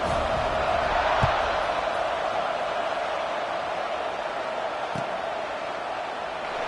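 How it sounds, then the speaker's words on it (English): A football stadium crowd at kickoff of an SNL vs UCLA game, a broad, continuous roar of many voices heard from within the stands, with a couple of brief thuds. "this crowd now ready to get behind them"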